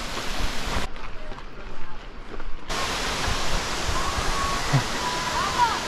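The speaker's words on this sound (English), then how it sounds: "Waterfall." Rushing water roars as a steady broadband hiss, briefly muffled then loud again, like a nearby waterfall pouring continuously, on a hiking trail between Valbona and Theth in Albania.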